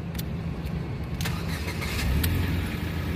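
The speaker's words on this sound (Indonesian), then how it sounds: "Sekarang kita coba saja start mobil ya" A 2011 Ford Fiesta 1.6 Sport automatic being started, with a few clicks and a cranking rumble that builds into a steadier engine note, heard close up with no talking.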